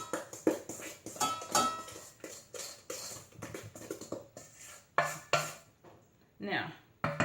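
A spatula scrapes flour down the sides of a mixing bowl while making brownies, giving a series of irregular close scraping and clinking strokes with short pauses between them.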